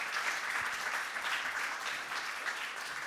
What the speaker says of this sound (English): Big round of applause for Imtiaz Dhaka.